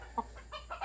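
A gamefowl chicken gives a few soft, short clucks in quick succession, faint and close, with no talk.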